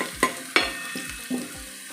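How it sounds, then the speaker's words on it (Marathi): Garlic sautéing in a pan for kurdu bhaji, a leafy greens dish, with a light sizzle under a few sharp spatula scrapes and taps against the pan, close and moderately loud. "तर आता आपली हलकी लसूण ही परतवून झालेली आहे"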